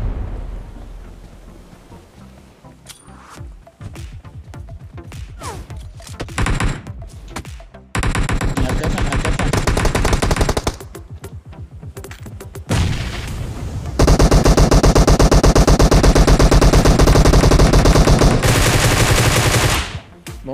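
Flares and firecrackers bursting inside containers, a long run of rapid crackling pops and bangs that swells into dense, loud continuous volleys, heard alone without talk.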